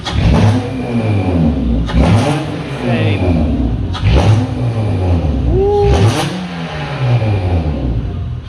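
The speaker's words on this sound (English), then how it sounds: "He's revving it so we can get all the oil that I poured into each cylinder burnt out" A 2004 Acura TL 3.5-litre stroker engine revs hard in repeated bursts, roaring up and dropping back about every two seconds, loud and close with a brief whine partway through, burning off oil poured into the cylinders.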